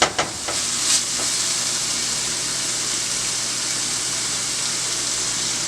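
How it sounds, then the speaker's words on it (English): Onions sautéing in a pan for a chicken stir fry, a loud, steady hissing sizzle right up close, opening with a few sharp clinks and stirring bursts before settling into an even, unbroken crackle. "when you saute your onions for a minute"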